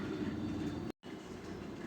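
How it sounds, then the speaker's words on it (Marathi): A Pune Metro train in motion, heard from inside as a steady, continuous rail rumble with a brief gap of silence midway. "Metro, Pune metro."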